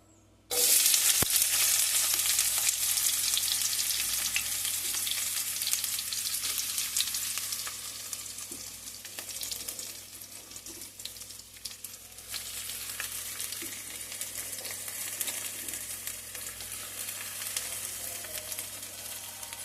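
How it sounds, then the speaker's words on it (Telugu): Onions and tomatoes hit hot oil in a pan, setting off a loud, steady sizzle that begins abruptly and carries on throughout, softening slightly midway with occasional stirring; no talking. "ఆనియన్స్ వేద్దాం ఈ ఆనియన్స్తో పాటు ఈ టమాటాలు కూడా వేసుకోండి"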